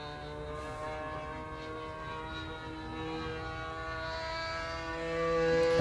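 A model airplane's engine throttles up, a steady buzzing drone that swells gradually and grows louder toward the end, heard alone at a distance.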